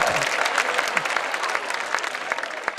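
A crowd claps steadily at a Jain monk's afternoon religious discourse during a pichhika-changing ceremony, with sharp individual claps over a broad wash of applause.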